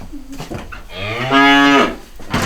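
Cattle on a mountain farm: a low call leads into one long, loud, close moo that swells and then fades, with no talking.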